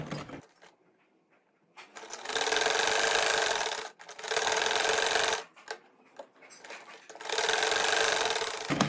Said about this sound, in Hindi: इसको गुलाई में सिलाई लगाती जाऊंगी